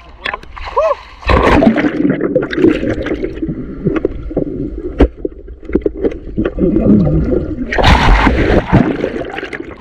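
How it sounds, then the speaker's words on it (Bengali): Someone dips into clear sea water off Havelock Island in the Andaman Islands, with loud nearby splashes and sloshing water. People talk over the water sounds. "জল কি পরিষ্কার দেখো, একটা ডুব দিয়ে দেখাই।"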